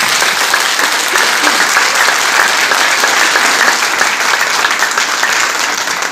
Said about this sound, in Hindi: तालियां बजा दे जोरदार